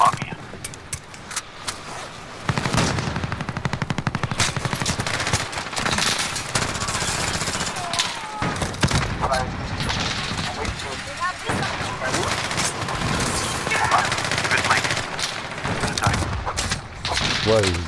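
Sustained, heavy automatic gunfire and explosions in Call of Duty: Modern Warfare, with rapid, dense shots hammering almost continuously at close range while players talk over the noise.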